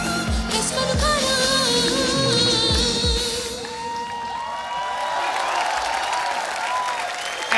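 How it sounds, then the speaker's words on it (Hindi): Studio audience at a TV comedy show bursting into loud sustained applause with some cheering, the clapping thinning out toward the end. "जोरदार तालियां होनी चाहिए यार"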